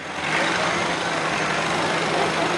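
A classic 1956 Allis-Chalmers tractor engine runs steadily at a patriotic celebration parade, a loud continuous low rumble that holds without a break and stands on its own.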